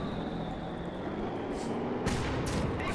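A 57mm anti-tank gun fires in a war strategy video game, a sharp broadband blast about two seconds in that rises out of a steady rumbling battlefield background, with a fainter burst just before it.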